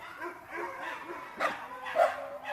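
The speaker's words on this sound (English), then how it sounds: "Oh my god, how many dogs have they got in this place?" Several dogs bark and yip together at a place holding many dogs, heard on a hike in Tenerife; the barking is moderately distant and overlapping, with a couple of louder yelps standing out.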